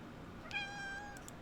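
A cat meows twice in close succession, a clear, tonal call heard close by over a quiet indoor background, with no talking.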